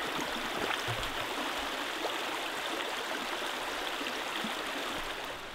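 A swollen stream rushes at a crossing on a hike in Red River Gorge, Kentucky, a steady broad roar of flowing water that holds close and constant for several seconds with no voices.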